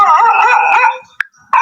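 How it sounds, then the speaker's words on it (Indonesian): A dog howls and yips up close and loud, a long wavering cry followed by two short sharp barks, with no talking. "Malah Ustadz malah menggonggong."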